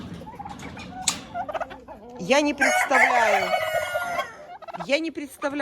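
Turkeys gobbling near and loud, several birds calling in overlapping bursts with a rooster-like crow mixed in, while someone speaks briefly at the start.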